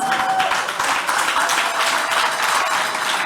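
Steady applause from a conference audience during closing remarks, a broad, unbroken patter of many people clapping at close range, holding level for the whole stretch.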